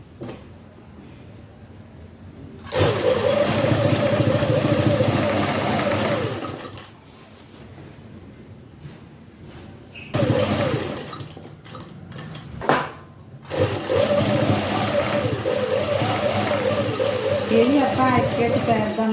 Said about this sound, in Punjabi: ਇਸ ਤਰ੍ਹਾਂ ਐ ਰੱਖ ਕੇ ਸਲਾਈ ਕਰ ਦੇਣੀ